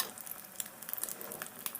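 Puthi fish frying in oil in a kadai, a steady soft sizzle and crackle with faint pops throughout, no voices.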